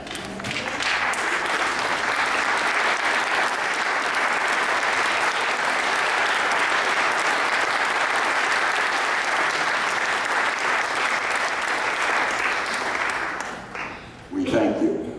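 An audience at a school awards gathering applauds military veterans with sustained, loud clapping that holds steady for a long stretch before tapering off, with some voices mixed in near the end.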